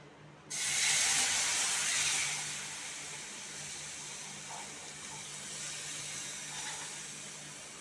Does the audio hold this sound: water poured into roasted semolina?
yes